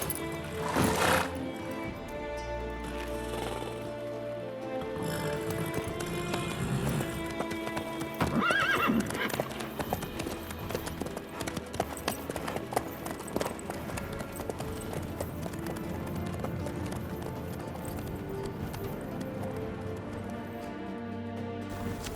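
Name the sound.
horse galloping in The Witcher 3 video game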